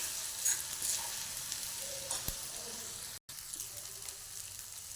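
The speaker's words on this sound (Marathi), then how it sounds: "थोडंसं परतून घेऊ मिरची." Ground green chillies sauté in a pan, giving a soft steady sizzle with occasional faint stirring scrapes. The sound is quiet and close, with a brief dropout partway through.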